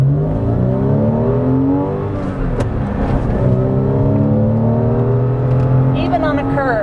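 A Porsche Boxster S pulls away hard, its engine note climbing through rising revs with a shift midway, loud and close against gusting wind, while someone talks briefly over it.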